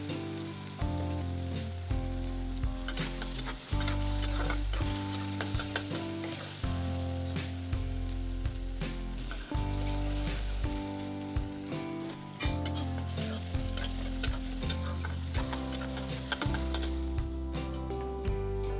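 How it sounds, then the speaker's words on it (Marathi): Steady, loud sizzling of onion frying in a pan over low heat, running the whole time with music playing underneath. "मंद आचेवर कांदा छान परतून घ्यायचा लालसर होसर भाजून घ्यायचा"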